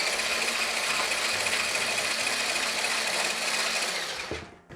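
An electric mixer whipping egg whites into meringue for meringue cookies: a loud, steady, close motor whir with a high whine that runs unbroken, then winds down and cuts off at the end.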